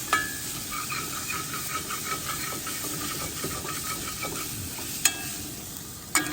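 Paprika and garlic fry in a pot for an Ethiopian stew cooked while winter truck camping. A steady sizzle and hiss runs throughout, with scraping stirs and a couple of sharp clinks near the end.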